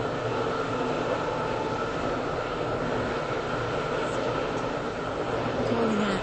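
A Class 730 train in a Roblox railway game rolls toward a station on the Waterline, a steady loud rumble and hum of wheels and motors throughout, with no voices.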